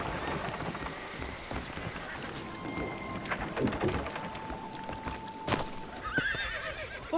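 Horses whinny and hooves clip-clop in Red Dead Redemption 2, with rain pattering and thunder rumbling beneath, a steady dense wash of game sound with no talk.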